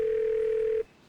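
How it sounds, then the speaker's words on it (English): A telephone ringback tone on an outgoing phone call: a single steady electronic tone that holds for under a second, then cuts off, leaving a faint hum. "it's ringing."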